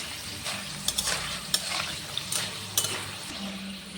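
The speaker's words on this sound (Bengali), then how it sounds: "কচুটা ভাজা হয়ে গেল, তুলে নেব।" Taro (kochu) fries in a pan and is stirred, a steady close sizzle punctuated by several sharp utensil scrapes and clinks against the pan over a few seconds, moderate in level with no talking.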